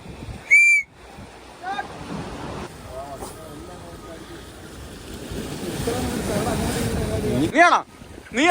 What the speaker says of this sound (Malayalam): എന്നിട്ട് നമ്മളൊരു വിസിൽ തരും